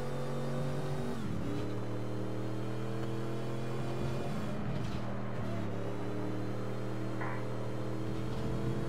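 Car engine in the video game APB Reloaded, a steady droning hum that shifts pitch as it revs up and down, continuous and close with no talk.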